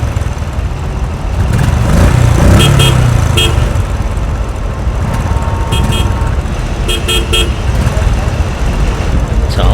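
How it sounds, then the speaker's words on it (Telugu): Car horns toot repeatedly in short bursts amid busy road traffic, with vehicle engines rumbling underneath and people talking over the noise. "షిట్, ఏంట్రా ఈ ట్రాఫిక్?"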